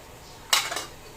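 A cooking pot with squid ink added gets a quick stir, heard as a short metallic scrape and clink of a utensil against the pot, alone and close.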